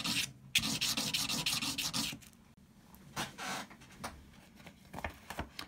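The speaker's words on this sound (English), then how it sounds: "I'm now going to sand the edges on some coarse sandpaper" Edges of an etched brass pendant being rubbed on coarse sandpaper, with quick rhythmic scratchy strokes close up, followed by a pause and a few slower, fainter rasping passes.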